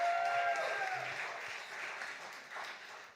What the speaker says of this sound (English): round of applause for Nate being up past his bedtime